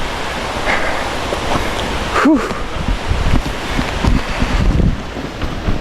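A mountain stream flows beside a hiking trail in a forested valley, a steady broad rush of water mixed with wind noise on the microphone, with a brief faint voice partway through.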